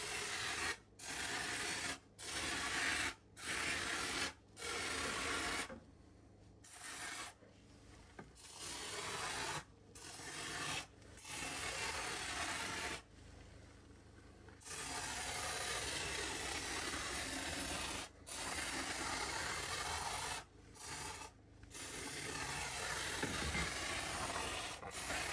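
Long bursts of hissing from a Kraken Bond Fastcoat spray foam can, repeated many times with brief pauses between them, loud and close, with no talking.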